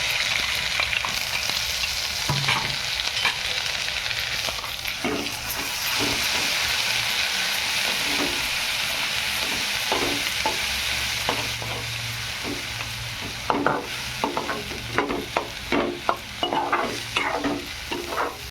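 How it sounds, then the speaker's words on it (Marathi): Ground tomato and home masala sauté in a pan for cauliflower sabzi, giving a continuous close sizzle and hiss with repeated spoon-stirring scrapes toward the end and no talking. "ते वाटून घेतलेलं टोमॅटो टाकायचं. चांगलं परतलं जातं त्याला."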